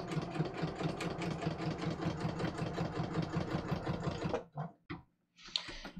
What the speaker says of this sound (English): I'm just going to stitch around the edge to hold it to the card